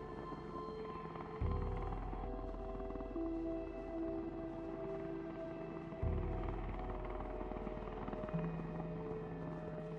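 A steady, droning helicopter rotor hum from the video game Project Zomboid, with a low throb that persists throughout, shifting slightly in pitch at moments.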